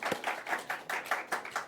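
A church congregation at a Sunday worship service claps in a brisk, steady rhythm, a quick run of close, sharp claps with no talking.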